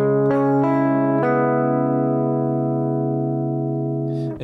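An electric guitar plays a slow part of the Japanese version of a song: a few sustained notes picked in sequence, then one long ringing chord fading slowly, clean and alone.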